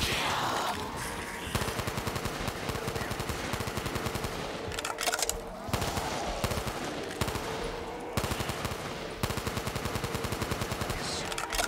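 Rapid automatic gunfire in Call of Duty Zombies, dense loud bursts of shots in fast rhythm with brief gaps, sustained and close for the whole stretch, no talk.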